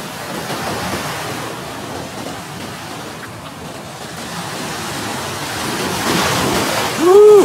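Sea waves on a hidden beach on the Pacitan–Trenggalek border, a continuous roaring wash of surf mixed with wind buffeting the microphone, swelling louder toward the end.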